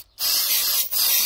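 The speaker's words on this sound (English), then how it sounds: "I've sprayed electrical contact cleaner into these" An aerosol can of electrical contact cleaner sprays in two loud hissing bursts, a long one followed closely by a shorter one after a brief break, close by while work is done on a Toyota bus's electrics.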